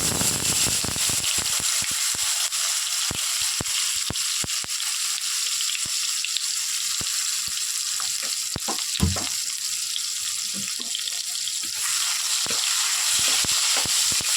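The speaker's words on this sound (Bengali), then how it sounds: "গরম তেলের মধ্যে আমি দিয়ে দিচ্ছি টমেটো কুচি" Chopped tomatoes dropped into hot oil in a kadai sizzle loudly and steadily, a dense crackling fry with scattered pops and stirring scrapes, close up and without talk.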